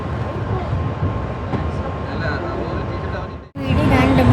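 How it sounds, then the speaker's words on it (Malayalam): Vande Bharat Express train 20631, Mangalore to Trivandrum, running at about 80 km/h between Shoranur and Ernakulam: a steady, loud rumble and roar with rail clatter, heard from inside, with a sudden shift in tone near the end. "80 റേഞ്ചിലാണ് നമ്മുടെ ഇത് വന്ദേ ഭാരത് പോകുന്നത്."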